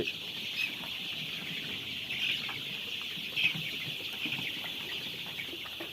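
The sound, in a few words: Sonali chicken chicks at a poultry farm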